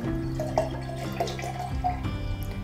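Water poured into a plastic container shaped as a dinosaur fetus model, a steady liquid trickle and splash with faint dripping, close and continuous for a few seconds over a low background hum.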